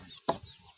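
A chicken gives one short, close cluck in a garden beside rice fields, with quiet background around it.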